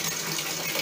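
Water gushes steadily from a freshly opened tap during a faucet repair, a brief, even hiss of running flow close by.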